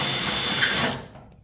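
A power drill bores out 1/8 inch holes to 5/32 inch in sheet metal on a Hummel Ultracruiser fuel tank cover, a steady close whine running about a second before cutting off.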